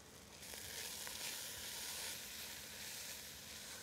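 Grated garlic sizzles in a hot pan with a steady, bright frying hiss that starts abruptly and holds at an even, moderate level without talk.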